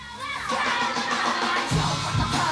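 A crowd shouting and cheering together, voices blending into a loud excited roar with a few higher shrieks rising near the end, brief and energetic.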